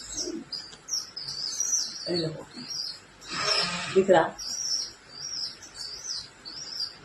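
Soft, repeated high chirping calls from pigeon chicks continue throughout, with brief voices speaking nearby partway through.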